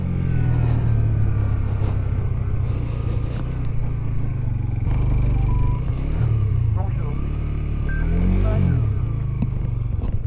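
A motorcycle riding on a road on a trip from Millas to Toulon, its engine a steady loud rumble with wind and clatter throughout, rising slightly in revs at moments.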